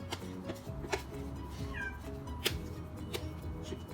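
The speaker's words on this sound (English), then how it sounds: "Have a cat meowing in the background." A pet cat meows in the background of a home kitchen, with one short rising call standing out over steady room noise and faint clatter.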